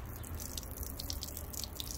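A wheel brush swished and rinsed in a bucket of water, soft continuous sloshing and dripping, faint and close with no talk over it.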